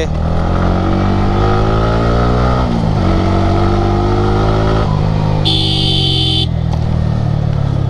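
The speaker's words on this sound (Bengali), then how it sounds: "একটু এক্সস্টটা বাড়িয়ে দিলাম" A motorcycle on a trip to hilly Bandarban idles and revs its exhaust in loud, rising and falling engine pulls, with a brief horn-like tone partway through.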